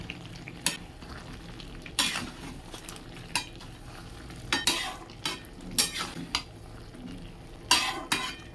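A spoon stirs cooking vegetables and jackfruit in a pan in scattered, scraping strokes over a soft background sizzle, each stroke loud and close.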